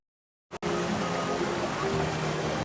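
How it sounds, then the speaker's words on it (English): Steady rushing water splashing on a Disneyland ride, a broad continuous wash of spray that starts abruptly and holds at an even level throughout. "That water splashing feels pretty good though."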